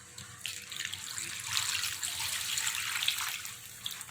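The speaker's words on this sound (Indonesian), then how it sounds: "kita masukkan ini santan kelapa" Coconut milk pours into a pot of boiled jengkol for a gulai: a steady, fairly quiet liquid splash and trickle that runs without a break for about four seconds, with no talking.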